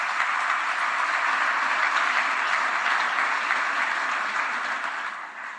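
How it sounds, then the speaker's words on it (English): Sustained applause from a large conference audience, a dense, even wash of clapping that carries steadily for several seconds before beginning to taper off at the end. "please applaud yourselves"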